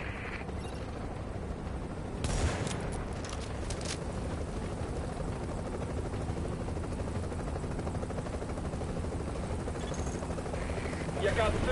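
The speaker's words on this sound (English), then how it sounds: "Okay, we're putting the chopper down." A helicopter sets down in The Division, its rotor thrumming loud and steady with a whooshing burst early on, under game voices.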